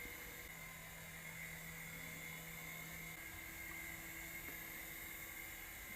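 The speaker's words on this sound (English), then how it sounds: "A good little beginner's helicopter." A mini beginner RC helicopter, the v398, flies in steady circles, its small rotor and motor giving a continuous high-pitched whine with a buzzing drone that shifts slightly in pitch as it moves.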